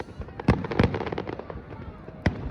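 Canada Day fireworks burst over downtown Edmonton, with a few loud, sharp booms and scattered crackling in between as a crowd cheers in the background.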